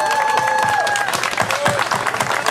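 A crowd at a sailing regatta gathering applauds young sailors, a steady wash of close, loud clapping with a faint whistle-like tone near the start.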